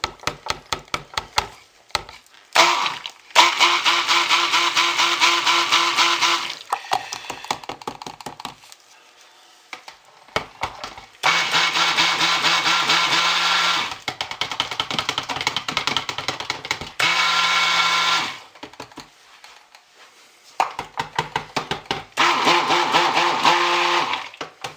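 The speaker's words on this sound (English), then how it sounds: "Now, we'll stick blend a little bit, lightest to darkest." Stick blender whirring in bursts through cold process soap batter, several loud multi-second runs separated by short pauses and clattering handling noises, no talking.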